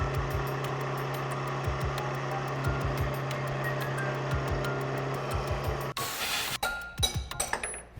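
A metal end mill falls tip first during a milling job that is making a coin, cutting through a steady machine hum with a sudden loud crash followed by several sharp metallic clinks and rattles close by.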